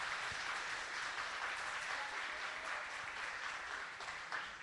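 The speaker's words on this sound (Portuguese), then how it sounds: "Dá as palmas para eles" Church congregation at a Sunday morning service breaking into steady, dense applause that fills the hall without a break, sustained and even at moderate loudness, with no talk over it.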